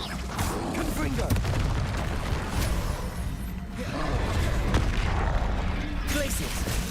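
Confringo explosive spell cast in Hogwarts Legacy, booming blasts and bursts layered over game combat noise, with a couple of sharp hits and a steady rumble throughout.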